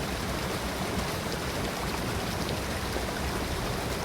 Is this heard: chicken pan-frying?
no